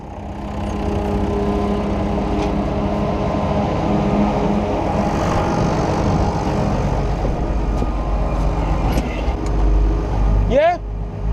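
A truck engine labours in low range second gear, a steady, loud low drone pulling under load with a brief rise near the end, as voices talk over it.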